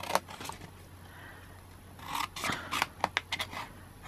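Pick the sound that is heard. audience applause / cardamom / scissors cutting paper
scissors cutting paper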